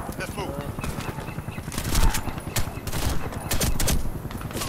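Bursts of automatic gunfire in the shooter game Warface, loud irregular volleys and shots stacked over an ongoing battle with talk over it.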